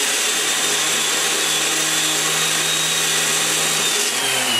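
A 45-degree stone grinding the valve seat of an LT-1 Chevy cylinder head, a steady, loud, continuous motorized whir with a low hum that holds evenly throughout and dips slightly near the end.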